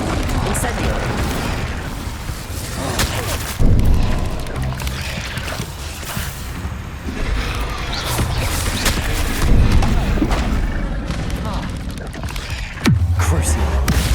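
Incendio fire spells cast repeatedly in Hogwarts Legacy on PS5, heard as loud booming bursts and thuds over a dense, continuous game soundscape of combat effects.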